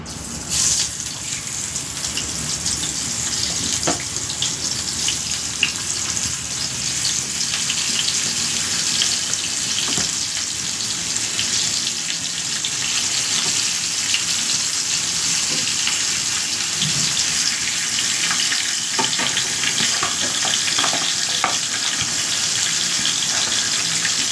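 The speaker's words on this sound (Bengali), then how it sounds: "এ দেখো মাছ মাছগুলো ভাজা চাপিয়ে দিই" A steady, loud sizzle of fish frying in hot oil, crackling continuously up close with occasional pops and no voices.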